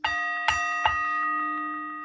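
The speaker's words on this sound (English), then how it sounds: "Ring that bell." A bell strikes three times in quick succession, each bright ring sustaining and slowly fading into a long shimmering decay.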